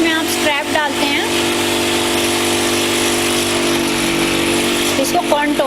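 A drill machine bores holes through slipper soles in a workshop, giving a steady, loud mechanical whine that holds throughout, with voices talking over it at the start and end.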